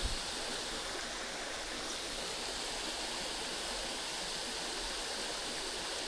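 Steady rushing of a clear river stream flowing over rocks, a constant broadband wash with no pauses and no voices.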